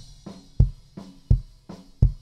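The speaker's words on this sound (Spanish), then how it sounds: "Pero vamos a escuchar mi bombo. Mi bombo suena así." A single kick drum thumps six times in a steady alternating pattern of softer and harder hits, punchy and close with no other instruments.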